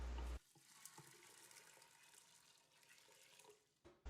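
Water pours steadily into a pressure cooker holding drained red beans, a continuous splashing stream that runs for several seconds before stopping abruptly, recorded close and fairly quiet.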